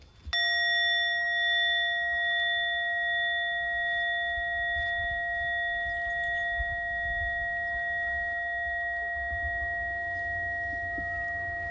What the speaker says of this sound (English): the sound of the bell vibrates through one's heart and awakens one's soul